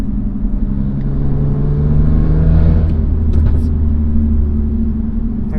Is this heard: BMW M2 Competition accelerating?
yes